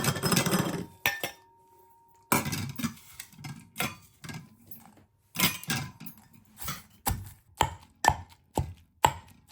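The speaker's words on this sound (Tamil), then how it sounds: "வெங்காயமும் கருவேப்பிலையும் சேர்த்து நல்லா இடிச்சுக்க போகிறோம்" Chillies, onion and curry leaves pounded in a mortar for Jaffna-style Sri Lankan dosai: a dozen or so hard, close thuds, struck in irregular bursts with short pauses between.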